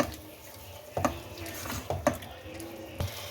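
Mutton liver with yogurt being stirred in a pan over high flame, a soft low sizzle beneath a few distinct clinking, scraping strokes of the spoon, close by and quiet, with no voices.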